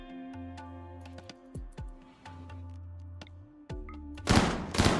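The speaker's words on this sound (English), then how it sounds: "I like how Tigger's shooting at it" Gunfire in the video game RimWorld comes as sharp, isolated thunks and cracks spread across a few seconds over a low game hum, ending in a loud burst of noise.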